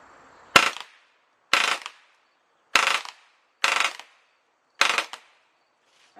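Five single shots from an HK 416 rifle at 15 yards, sharp and loud, spaced roughly a second apart with short decays and quiet between them.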